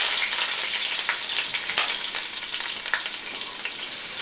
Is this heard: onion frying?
yes